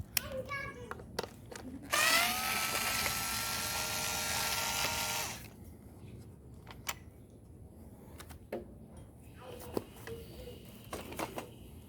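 A screw being driven in with a powered driver while assembling a Graco baby swing, a close, loud whirring burst lasting about three seconds, followed by quiet handling clicks and taps.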